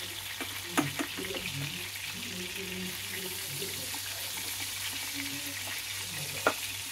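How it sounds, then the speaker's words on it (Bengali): Hilsa fish being turned over in hot oil, a low continuous sizzle with occasional clinks of a utensil against the pan, fairly faint, with a low background hum. "জাস্ট একটু নেড়ে নিলাম তেলেতে"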